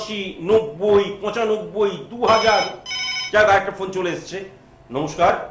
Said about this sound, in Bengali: একটা ফোন চলে এসেছে